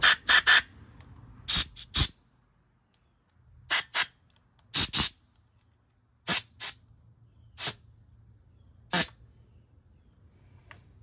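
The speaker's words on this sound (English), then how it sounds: "you just have your air or carb cleaner, and you're just spraying out every hole you got" Short sharp bursts of carburetor cleaner spray into the holes of an X-Pro Templar 250 dirt bike's 30mm carburetor, about a dozen quick hisses in irregular clusters separated by quiet pauses, close up.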